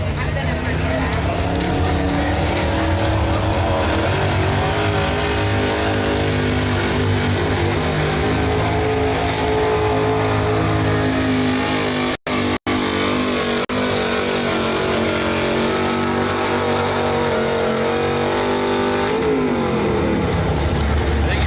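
A 1995 Dodge D200 pickup pulls a sled at a harvest festival tractor pull, its engine roaring at sustained high revs, loud and constant, with an announcer talking over the noise.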